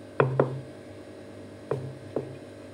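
A knife trims the crusts off slices of bread on a cutting surface, making four short, crisp cuts: two close together, a pause, then two more. The cuts are moderately quiet over a faint background hum.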